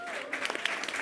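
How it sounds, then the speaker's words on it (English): Brief burst of audience hand clapping at a conference talk, a short scattered patter of claps rising over a fading voice, moderately near. "Did you see that hand clap back there, Mohammed?"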